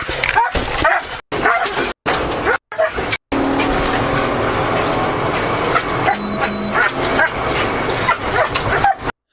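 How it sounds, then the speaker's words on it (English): A dog barks and yips in the background near a shooting scene, with choppy, intermittent bursts early on, then a continuous noisy stretch with a car and voices talking over it. "I always love to hear the dog in the background."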